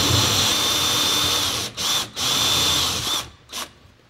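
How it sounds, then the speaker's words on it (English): Drill spinning a 2-inch hole saw through drywall: a loud, continuous whining buzz, cut by two brief pauses midway, then a final short burst before it stops. "I've got a 2-inch hole saw here."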